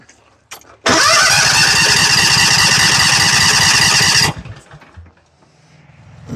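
John Deere engine with a fuel problem and the carburetor fuel line open, cranked by the starter in one long loud steady grinding burst of about three and a half seconds, then stopping abruptly.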